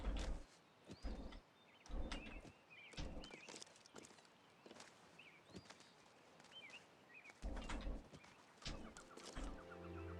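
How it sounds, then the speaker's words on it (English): In the video game Vermin, a bird clucks in short, repeated chicken-like calls, interspersed with footstep-like thumps and game sound effects. "The bird."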